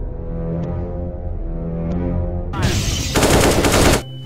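A rapid burst of automatic gunfire in CS:GO erupts after a couple of seconds of low droning sound, loud and close, lasting about a second and a half.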